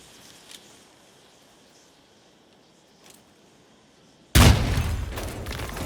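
A sudden loud explosion in the stealth game Hitman Freelancer bursts in after a quiet stretch of faint ambience, then a sustained roaring rumble follows.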